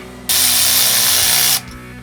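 Ratchet wrench tightening a bolt on a 1948 GMC pickup truck, one steady rapid clicking burst lasting just over a second, loud and close, with no talk.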